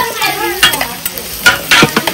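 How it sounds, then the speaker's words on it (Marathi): Onions being stirred and cooked for mutton curry at an outdoor village fair, loud scraping stirs in uneven strokes over a crackling sizzle, with background voices. "कांदा ढवळा शिजवत"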